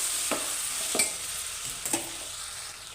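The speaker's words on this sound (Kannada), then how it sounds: "ಹಾಕಿ ಒಂದ್ಸಲ ಮಿಕ್ಸ್ ಮಾಡಿ" Ration rice mixed with biryani masala is stirred in a hot pan under a steady, close sizzle, with three distinct spatula scrapes spaced about a second apart.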